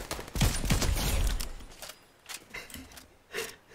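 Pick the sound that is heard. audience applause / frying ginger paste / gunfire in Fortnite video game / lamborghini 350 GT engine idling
gunfire in Fortnite video game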